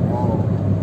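A Honda Jazz VTEC engine revs hard in a short, loud, continuous rumbling burst with a slight rise in pitch, and voices are audible close by.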